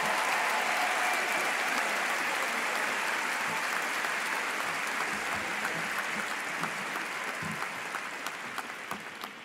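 Audience at a Florida State University commencement applauding to welcome Sara Blakely, dense clapping that starts loud and fades slowly toward the end.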